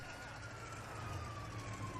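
A steady electronic police siren wail holds over a low engine drone in the video game GTA 5, sounding synthetic and constant rather than passing by.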